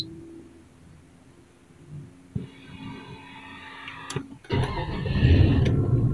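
A 1992 Nissan President turns over as its engine starts, a low cranking rumble rising into a louder, steady idle near the microphone after a few seconds of quiet interior hum and mechanical whirring.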